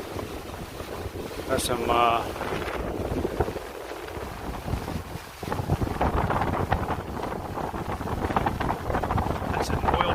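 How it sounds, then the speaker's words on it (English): A sailboat under way in a good breeze crossing the Gulf of Mexico at about nine knots, steady rushing wind and water noise buffeting the microphone, with a brief spoken remark over it. "Day 3 is starting with some nice wind."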